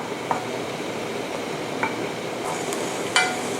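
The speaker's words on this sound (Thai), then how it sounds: "นี้เราก็ใส่กระเทียมลงไป นิดนึง ทีนี้เราก็ ผัดให้หอมค่ะ" Garlic frying in oil that is not yet very hot gives a soft steady sizzle, broken by a few light clinks and scrapes of a utensil against the pan.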